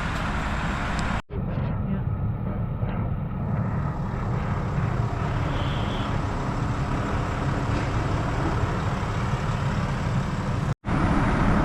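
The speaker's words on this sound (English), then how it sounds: "It actually sounds like we have some more trucks coming in." Heavy trucks roll in to a residential construction site for a concrete slab pour, a continuous loud low engine rumble and road noise filling the scene with no clear breaks.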